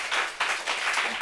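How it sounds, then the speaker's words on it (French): An audience claps for four women on stage at a French talk on silent illnesses, a short burst of applause swelling in waves, fairly close and loud, with no speech over it. "Applaudissez ces 4 belles femmes, s'il vous plaît."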